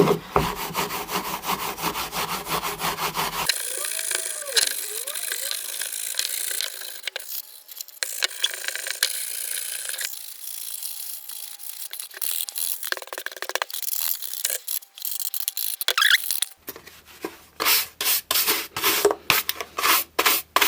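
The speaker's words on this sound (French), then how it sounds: "laine d'acier pour une petite finition." Steel wool scrubs over a leather saddle during finishing work, with steady close rubbing that turns into quick rhythmic back-and-forth strokes near the end. No voices.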